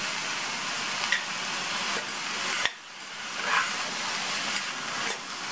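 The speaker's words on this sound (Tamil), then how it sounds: "உப்பு சேர்த்து மறுபடியும் நல்லா 1 தடவை ஒன்று போல் கலந்து விட்டுருங்க" Sliced snake gourd is sautéed and stirred in a pan, a steady close sizzle with soft scraping strokes and a few sharper clicks of the spoon against the pan, no talk.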